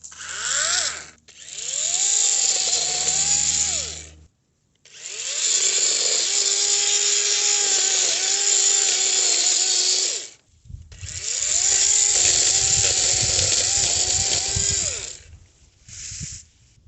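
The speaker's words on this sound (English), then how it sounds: "So I've got my chainsaw. I'm going to try and cut it out. It's just battery operated" A battery-operated chainsaw cutting through a bush near a fence, running in three long loud bursts of steady whining motor with brief pauses between, the pitch dipping as the chain bites, then a short final burst.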